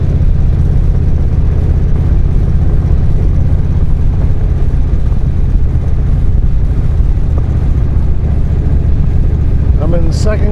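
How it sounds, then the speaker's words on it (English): A vehicle rolls down a loose gravel rural road in second gear at about 20 mph. The engine and tire rumble form a constant, loud, even drone throughout, and a brief high chirp comes near the end. "I'm in second gear doing about 20 miles an hour on this road."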